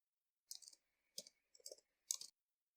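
Keys on a computer keyboard are tapped in four short, quiet clusters of clicks, evenly spaced and close by, with silence between them and no talking.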